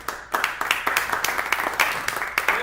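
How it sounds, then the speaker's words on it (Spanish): A church congregation claps for a brother at a service, an enthusiastic round of fairly close applause with distinct sharp hand claps rising through a continuous clapping bed. "Le damos un fuerte aplauso a nuestro hermano."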